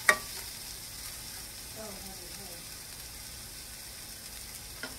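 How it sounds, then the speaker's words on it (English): Food frying gently in a non-stick pan, a soft, low-level sizzle with a faint clack at the start and a couple of light plastic-spoon knocks near the end, fairly quiet and distant. "we're going to let this fry a few minutes"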